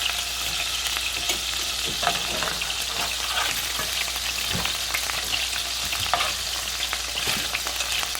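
Meatballs frying in oil give a steady close sizzle dotted with sharp pops and spatters, some louder bursts standing out against the continuous hiss.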